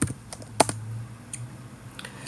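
A computer keyboard is typed on in a few quick, light clicks, spaced irregularly against a quiet background, close and soft.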